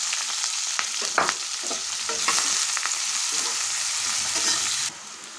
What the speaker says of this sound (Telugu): ఇప్పుడు ఇందులో కట్ చేసుకున్న ఆనియన్ పచ్చిమిర్చి వేసుకుంటున్నాను